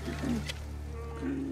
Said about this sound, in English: Bear cubs.